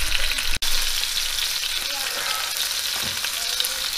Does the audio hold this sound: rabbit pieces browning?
yes